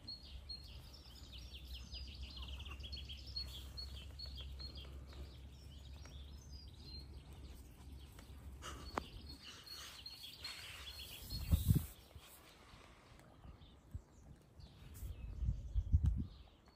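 Small birds chirp and sing outdoors on a farm, light scattered tweets in the background over a low rumble, with a few louder bumps and rustles near the end.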